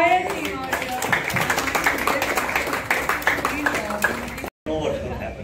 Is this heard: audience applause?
yes